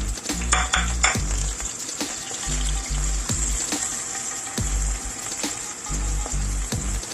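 Onion and garlic fry together in a pan for spaghetti with soya mince, a steady sizzle broken by repeated scraping and clanking of a utensil stirring against the metal.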